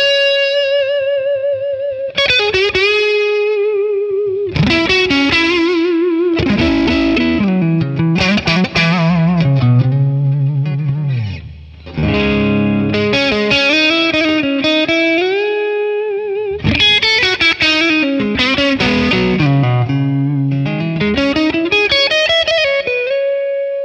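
Electric guitar played through a captured Vox AC15 amp with reverb added, loud and continuous with sustained harmonic notes, overdrive and a spacious reverb tail, alone without talk.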